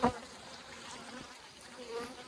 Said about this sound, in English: We put those nurse bees back where they belong.